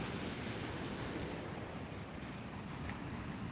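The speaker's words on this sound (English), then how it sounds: "Can you guys hear the ocean?" Ocean surf rolls onto a North Carolina beach at night, a continuous broad wash of waves with wind buffeting the microphone, steady and fairly close with no voices.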